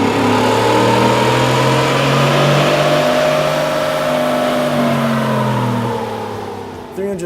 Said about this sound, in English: let's get the truck back on the dyno and see what kind of gains we get from this Power Plus series throttle body